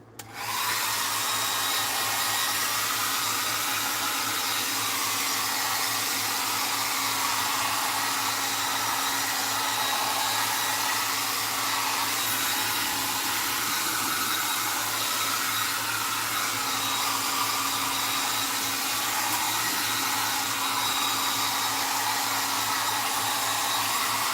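A hair dryer blows continuously to dry rocks for a model railroad layout, a loud, steady whirring roar starting abruptly and holding unchanged, close by with no talking.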